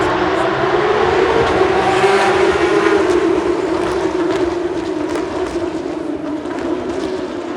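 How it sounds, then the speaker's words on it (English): A loud, close supercar engine rumbles continuously with a deep steady tone, idling with slight fluctuations and no voices, in pit lane at Bathurst. "There is the engine of a supercar."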